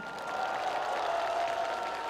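Fans at an outdoor apple festival applaud their singer, a steady wash of crowd clapping with a faint cheer, sustained and even throughout with no speech over it.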